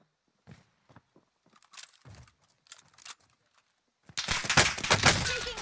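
Heavy gunfire erupts in the Warzone video game: after a few scattered footsteps and mechanical clicks, a sustained, loud burst of rapid shots hammers on without pause.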